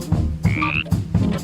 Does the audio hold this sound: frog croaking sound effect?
yes